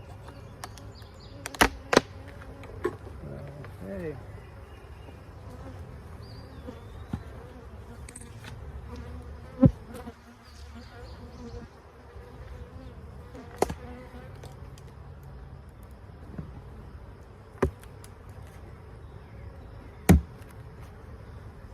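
Honey bees drone in a steady, close hum around an open hive during an inspection, with sharp clicks and knocks of tools at intervals and one brief spoken word.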